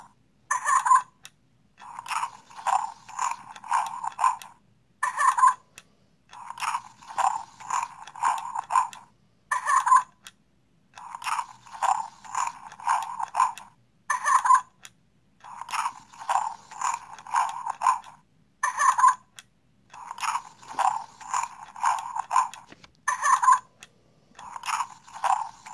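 A Happy Panda toy eats and laughs with mechanical whirring: short rhythmic clusters of chirpy, ratcheting gear noise repeat in bursts separated by brief pauses, close and clear against a quiet background.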